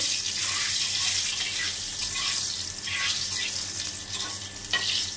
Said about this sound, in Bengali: দেখো কড়াতে দিয়েছি সর্ষের তেল, গাঠি দম করব, আর দিয়ে দিচ্ছি একটা তেজপাতা, সাদা জিরে দিয়েছি